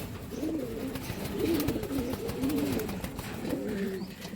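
Racing pigeons coo in a loft in low, rolling murmurs that overlap continuously, several birds close by with a soft rustling background.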